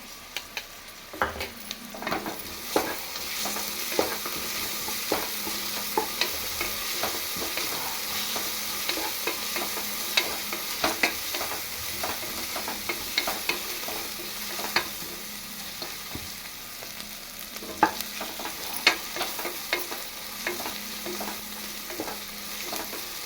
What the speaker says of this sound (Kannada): ಈಗ ಈರುಳ್ಳಿ ಎಣ್ಣೆಲಿ ಚೆನ್ನಾಗಿ ಫ್ರೈ ಇದೆ. 1 ಸ್ಪೂನ್ ಶುಂಠಿ ಬೆಳ್ಳುಳ್ಳಿ ಪೇಸ್ಟ್ ಹಾಕೊತಾ ಇದ್ದೀನಿ.